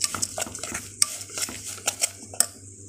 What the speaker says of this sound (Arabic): نقلب بقى كده